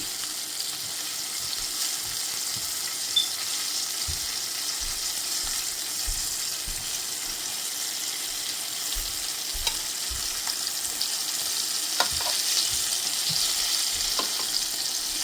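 Flour-coated chicken nuggets deep frying in hot oil until crisp, a steady close hiss of bubbling fat with scattered low pops and crackles throughout, no voices.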